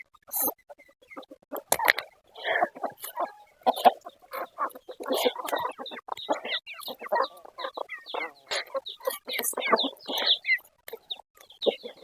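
A flock of chickens clucks and squawks in rapid, overlapping bursts, close by and fairly loud throughout.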